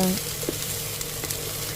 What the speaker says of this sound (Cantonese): 先落咗洋葱碎炒香